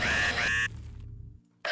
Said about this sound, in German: Dafür brauchte ich nämlich dann den Bohrer.